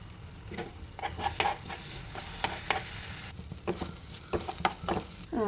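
A spoon stirs karinochi leaf thoran mixed with beaten egg in a pan, giving a steady close sizzle broken by irregular scraping clinks across the whole stretch, with no voices.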